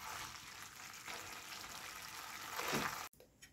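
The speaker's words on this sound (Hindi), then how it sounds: "गरम मसाला डालने के बाद अच्छे से मिक्स कर देंगे।" Beetroot and potato curry sizzles in a pan as it is stirred after garam masala goes in, a steady close frying hiss that swells briefly before cutting off abruptly.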